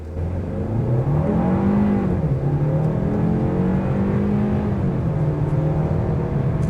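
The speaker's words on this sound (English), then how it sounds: "We have a bit more of a road to test out the acceleration." A 2025 Kia K4 GT Line turbo compact sedan's engine revs up steadily and loud, its pitch climbing and settling as the car accelerates, with no voices.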